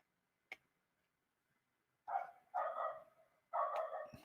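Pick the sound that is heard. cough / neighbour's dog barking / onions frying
neighbour's dog barking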